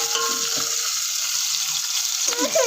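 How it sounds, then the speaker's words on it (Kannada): Onion, green chili and ginger-garlic paste fry in a pan with a steady bright sizzle, close and fairly loud, with a few stirring scrapes near the end. "ಈರುಳ್ಳಿ ಮೆಣಸಿನ್ಕಾಯಿ ಶುಂಠಿ ಬೆಳ್ಳುಳ್ಳಿ ಪೇಸ್ಟ್ ಎಲ್ಲದೂ ಹಾಕ್ಕೊಂಡು ಫ್ರೈ ಮಾಡ್ಕೊತಾ ಇದ್ದೀನಿ"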